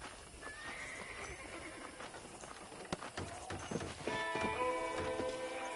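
Horse in the Western video game Red Dead Redemption, whinnying and clip-clopping over a busy game soundscape, with a sharper burst of hoof and movement sounds toward the end.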